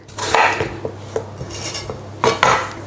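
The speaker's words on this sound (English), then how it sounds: "Cut the potatoes into thick slices" A knife slices large peeled potatoes into thick pieces on a board, making a few crisp chops and knocks at an uneven pace, close by and alone with no speech.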